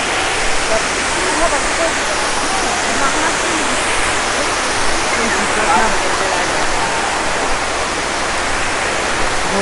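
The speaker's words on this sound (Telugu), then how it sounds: "ఇదే తీరథ్గర్ వాటర్ఫాల్స్." Tirathgarh waterfall in Chhattisgarh roars as a constant, loud wash of falling water, a broad steady rush with no breaks.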